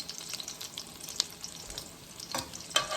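Shrimp and beef egg foo young fries in a pan at medium-low heat, a close, steady crackling sizzle with sharper spits and pops toward the end, and no talk.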